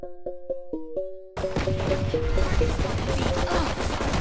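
A string of short game beeps gives way to loud, dense pistol fire from the Classic handgun in Valorant, sharp shots packed closely together with no voice over them.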